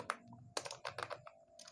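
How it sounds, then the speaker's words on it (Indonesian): Soft taps on an Android phone's on-screen keyboard while entering Python code: a quick, faint series of about half a dozen light clicks in an uneven rhythm, close and quiet. "kita ketik agama"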